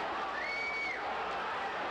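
A steady roar from a boxing arena crowd cheering hometown fighter Mike Tyson in upstate New York, broad and continuous throughout, with a faint rising whistle-like tone partway through.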